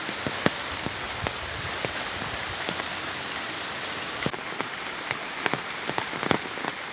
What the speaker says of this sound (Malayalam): വലിയ മഴയൊന്നും ഇല്ല ചൂളൻ മഴയേ ഉള്ളൂ